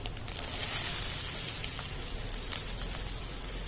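Capsicum pieces dropped into a hot pan while cooking capsicum iguru, giving a steady, close hiss of sizzling oil that runs the whole time with no talking over it.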